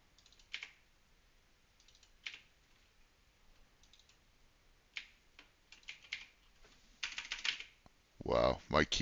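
Key clicks on a computer keyboard, scattered taps building into a faster, louder burst of typing at the end, close and otherwise quiet.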